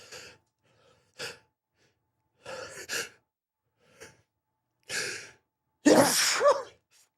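A single person's sneeze builds through several short sharp inhalations and gasps, then bursts out loudly and close up at the end.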